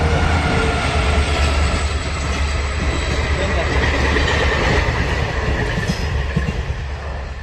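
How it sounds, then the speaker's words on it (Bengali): A train rumbles past on a railway line right beside the spot, loud and continuous with a heavy low roar and wheel noise from start to finish. "আপনাদেরকে দেখিয়ে দিচ্ছি ট্রেনটা, এই যে পাশেই আর কি ট্রেন চলতেছে"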